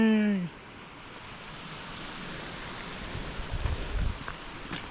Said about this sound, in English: And there's a little waterfall right here.